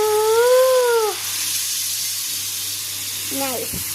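Unniyappam batter poured into a hot pan gives a steady, bright sizzle that runs throughout, while a person talks briefly at the start and again near the end.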